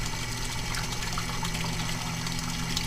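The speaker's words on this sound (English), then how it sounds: "the water pump driving this pipe flow" A water pump drives water through a pipe, producing a steady rushing, churning hum of flowing liquid with a low mechanical drone underneath, continuous and fairly loud throughout.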